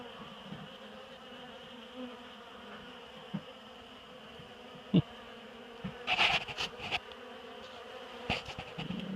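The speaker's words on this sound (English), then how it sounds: "Look at this bee." Bees buzz steadily at close range around a sugar-water bobber feeder, with a few louder passes near the microphone as individual insects fly by.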